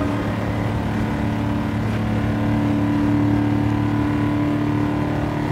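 A race car engine in the Gran Turismo 7 driving game drones steadily at a sustained high pitch, loud and continuous with no talking.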